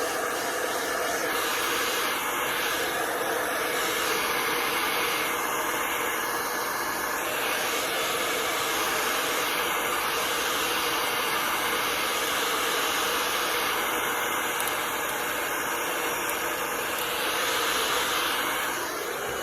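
Heat gun warming the glue on a Talon grip being fitted to a Glock 22, a steady loud blowing hiss that runs on with no pause and no talk.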